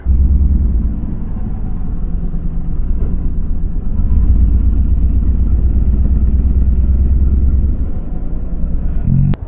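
An Indian Springfield Dark Horse motorcycle engine rumbles steadily and loudly while being ridden on a test ride at Sturgis, a deep continuous drone with slight swells, alone with no talk.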